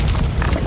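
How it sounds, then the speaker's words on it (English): A deep, loud explosion blasting apart rocks in the video game Amnesia, a short rumbling burst filling the low end. "I exploded the rocks!"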